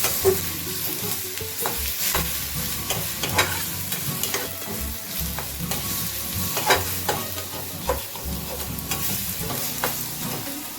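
Spices are stirred in a hot frying pan, giving a continuous sizzle broken by repeated scraping and knocking strokes of the spoon against the pan, close and fairly loud.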